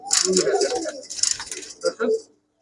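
Giribaz high-flyer pigeons cooing in short, throaty bursts close by, broken by small pauses and clattering handling sounds, with a person's voice nearby.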